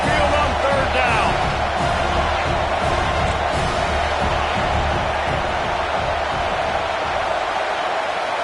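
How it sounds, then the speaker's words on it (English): Alabama Crimson Tide football crowd at a home game roars steadily on third down, a loud, dense wall of cheering that holds without letup throughout. "The Tide crowd rolling noise down on the Saban field on third down"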